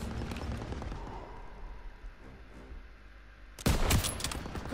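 Machine gun fire in the Call of Duty WWII video game, a sudden loud burst of rapid gunfire breaking in near the end after a stretch of quieter battle ambience.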